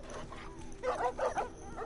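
Dogs in The Last of Us video game whimpering and yipping, a few short high-pitched whines in quick succession, close and moderately loud, with no talking.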